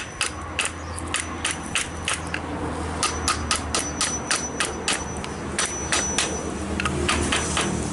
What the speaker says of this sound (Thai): ถ้าปอกเหล็กแล้วใช้ค้อนตีเราใช้ไม้ตี